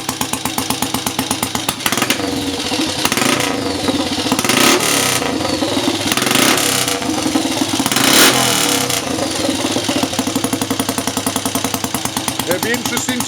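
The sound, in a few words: Triumph Scrambles Cub motorcycle engine running after cold kickstart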